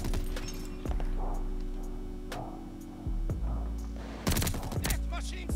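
Gunfire in Call of Duty Vanguard: repeated sharp shots crack through a steady hum, with a dense burst near the end, and a voice talks intermittently over the fighting.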